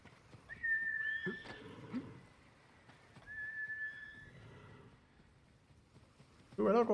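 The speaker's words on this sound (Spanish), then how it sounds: "llamamos al caballo para que venga arriba" A horse in the Ghost of Tsushima video game lets out two drawn-out, wavering whinnies a few seconds apart, followed by a brief louder burst at the very end, over a quiet background.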